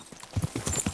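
Horse hooves clip-clop at a steady walking rhythm in Kingdom Come: Deliverance II, a quick run of even, fairly soft strikes with no talking over them.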